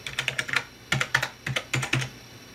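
Quick, crisp keystrokes on a computer keyboard entering an IP address, a steady run of light clicks with a short pause midway, close and alone.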